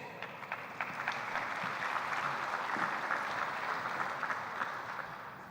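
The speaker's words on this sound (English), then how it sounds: "One quick round of applause for Ben." An audience at a dirt racing series banquet claps in a brief, moderate burst of applause that swells and then gradually thins out, heard from a distance.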